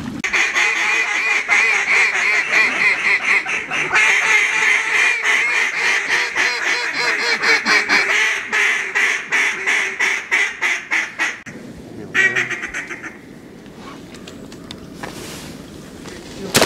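Dense, loud quacking and honking of ducks fills the air during an Arkansas duck hunt, rapid overlapping calls that thin out toward the end, with some voices mixed in.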